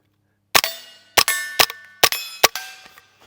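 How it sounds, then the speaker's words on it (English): Five sharp gunshots from a lightweight GOAT-15 .22LR semiautomatic rifle, each followed by a bright metallic ring off a steel plate target, fired at an irregular pace, loud and close with no talking. "All right, let's do some more shooting."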